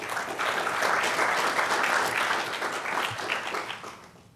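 A conference audience at a community land trust gathering gives a round of applause for the sponsors, a sustained crowd clapping that swells, holds, then tapers off near the end.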